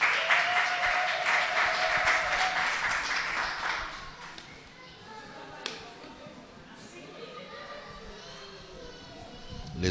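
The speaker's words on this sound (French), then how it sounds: "Est-ce que nous pouvons applaudir pour le Seigneur?" Congregation applauding during a church service, a burst of many hands clapping for about four seconds, then dying away to scattered claps, children's voices and murmured talk in a reverberant hall.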